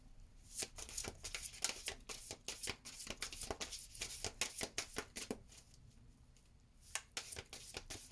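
Tarot-style cards are handled and drawn from a deck, a quick series of crisp papery flicks and riffles, close and fairly quiet, with a short pause near the end.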